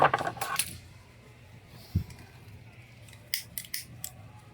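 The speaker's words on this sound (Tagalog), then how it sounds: "mga buntot niya ay guguntingin natin" Scissors trimming the tails of a paracord keychain: a cluster of sharp metallic snips at the start, a single dull clunk in the middle, then several more quick close clicks near the end.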